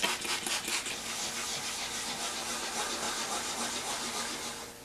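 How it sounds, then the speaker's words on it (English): Wet sanding a lacquer finish on a guitar body, a steady wet, hissing rub of abrasive against the surface, close and continuous with soft rhythmic strokes and no talking. "So once I get done wet sanding here now, I'll make a judgment call."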